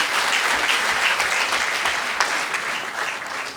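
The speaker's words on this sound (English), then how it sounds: "Can we applaud all the women engineers here?" A conference audience at the opening ceremony of the 2021 APWEN women engineers' conference applauds, steady dense clapping that stays loud and full throughout with no pauses.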